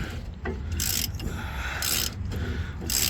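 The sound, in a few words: wrench removing last U-bolt nut on truck leaf spring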